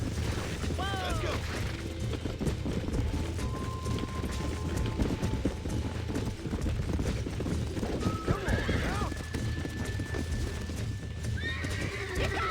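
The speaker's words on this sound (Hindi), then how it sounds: "ये दूसरा घोड़ा ही है" Horses gallop and neigh in the Red Dead Redemption video game during a wild horse taming mission, with drumming hoofbeats running throughout and several sharp whinnies cutting through as someone talks over the action.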